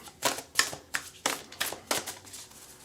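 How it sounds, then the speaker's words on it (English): Spirit Animal Oracle tarot deck being shuffled by hand, a run of about six crisp, papery riffling bursts at an even pace, close and fairly quiet, with no voices. "So we're going to shuffle."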